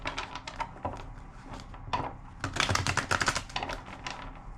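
A tarot card deck shuffled by hand makes a close, crisp flurry of rapid riffling clicks and flaps. The bursts come in uneven clusters and build to a denser rush near the end, with no talk.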